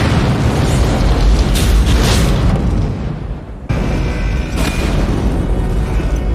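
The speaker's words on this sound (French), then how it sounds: "L'explosion au sommet du gratte-ciel Nakatomi résulte du tournage d'une maquette réduite du" A loud, rumbling blast from a miniature model of the Nakatomi skyscraper filmed for Die Hard, with a sustained roar, cut off abruptly and followed by a second surge of deep, crackling boom.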